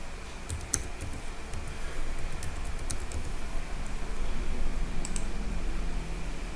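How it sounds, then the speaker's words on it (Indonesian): Rapid, light clicks of a login username and password being typed on a keyboard while setting up a Totolink NE200RE mini wireless router, sharp keystrokes in short bursts over faint hiss, no talking. "Langsung saja kita ketik huruf kecil semua."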